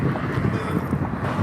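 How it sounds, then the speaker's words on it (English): Wind blows hard across a microphone outdoors on a street, a constant loud buffeting rumble. "whoa, it's windy."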